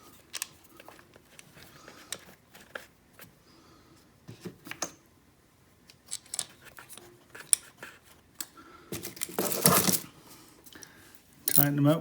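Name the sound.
10mm ratchet tightening bolts on a Prius engine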